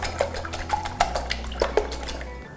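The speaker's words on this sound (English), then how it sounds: "Just give it a little whisk just to get it started" Eggs whisked briskly in a bowl for cupcake batter, a rapid series of light metallic clinks and taps of the whisk against the bowl, close and fairly clear.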